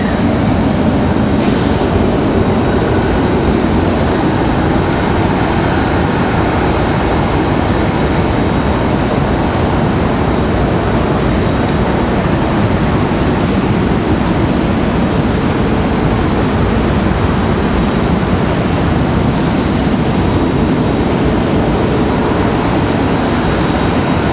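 A JetBlue airliner from Boston roars past at Raleigh-Durham International Airport, a loud, continuous broadband jet rumble lasting the whole stretch with no voices over it.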